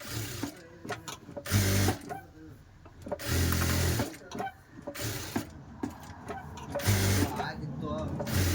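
A sewing machine stitches a blouse hook strip in several short whirring runs separated by pauses, with someone talking between and over the bursts.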